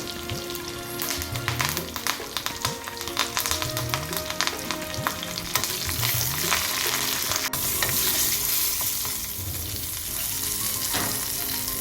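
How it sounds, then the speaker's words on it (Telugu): Loud, crackling sizzle of tempering spices, garlic, dried red chillies and curry leaves frying in hot oil, with sharp pops and occasional stirring scrapes throughout; no talking. "ఆయిల్ వేడైన తర్వాత తాలింపు గింజలు,"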